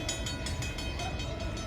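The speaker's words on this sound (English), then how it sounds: "the train is about to arrive, it's about to pass at Anderson Street Station." New Jersey Transit train 2110 rushes through Anderson Street Station in the rain, a loud, steady roar of wheels and rail noise with rhythmic pulsing and a faint tonal whine, close by and unbroken.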